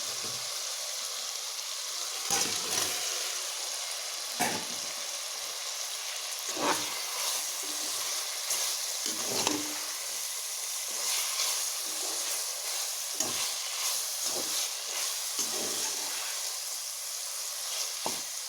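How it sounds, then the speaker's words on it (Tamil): Chicken sizzles and fries in a pan over medium heat for biryani, giving a continuous loud hiss broken by repeated clatters and bursts as the pieces are stirred. "இப்போ இதோட நம்ம எடுத்து வச்சுருக்கிற சிக்கன் சேர்த்துக்கலாம்"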